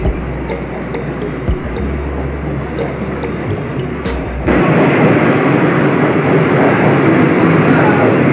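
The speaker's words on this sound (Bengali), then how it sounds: "এই যে ট্রেনটি চলে গেল শেষ গন্তব্য স্টেশন রানাঘাটের উদ্দেশ্যে" An AC local train pulling out of Barrackpore station, starting as a low rumble with rhythmic ticking, then swelling into a louder, continuous rushing roar as it moves off.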